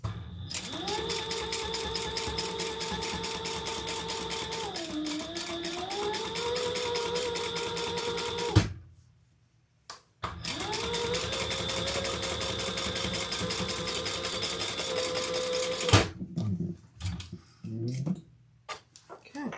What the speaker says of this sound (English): we're going to top stitch on the top band with the flap down